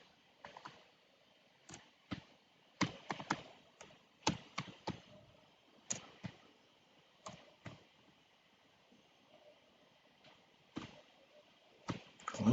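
Irregular clicks and taps of a computer keyboard being typed on while a Python Tkinter login page is built, struck at a slow, uneven pace, close and fairly quiet, with no talking.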